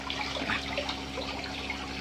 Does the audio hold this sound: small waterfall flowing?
yes